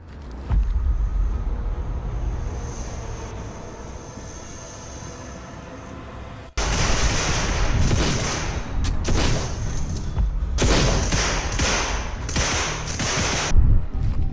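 Gunfire in a first-person tactical police shooter: after a quieter stretch of low ambience, loud rapid bursts of shots break out, with repeated volleys and pauses continuing to the end.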